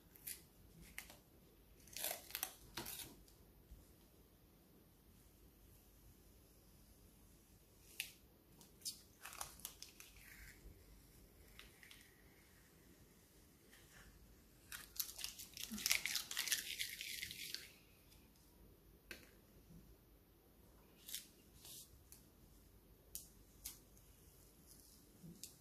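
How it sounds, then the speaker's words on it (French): Masking tape peeled off an art journal page in a series of crackly rips, one long loud tear in the middle, close up and otherwise quiet, with occasional soft speech. "je vais enlever le scotch de masquage"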